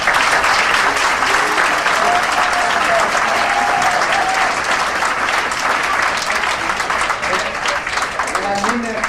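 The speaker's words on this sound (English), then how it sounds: "please give them a round of applause" Sustained applause from an audience at a hair show, loud dense clapping from a large crowd continuing evenly for about nine seconds, with faint voices mixed in beneath it.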